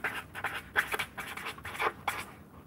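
Close, soft scratching strokes of a pen writing down notes come in quick irregular bursts, with no talk over them.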